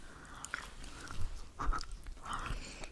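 Crunchy mushroom being chewed close up in a quiet room, with a few soft, irregular crisp bites and munching sounds.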